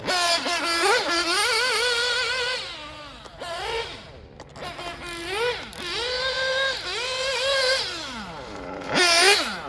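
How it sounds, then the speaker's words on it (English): Force Pro 21 nitro engine in a race-tuned RC car screaming around a track, its pitch rising and falling repeatedly as it accelerates down straights and lifts through corners, loud and continuous with brief dips. "We finally got the Force Pro 21 out here at the track with a race tune"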